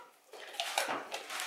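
A small splash of milk poured into a bowl for whisking, a brief soft liquid pour with light clinks of kitchenware, close and quiet with no talk.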